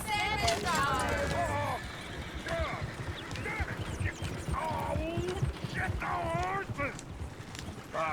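Horse hooves clip-clop with occasional whinnies in the Western video game Red Dead Redemption, set under steady overlapping character dialogue and a busy background bed.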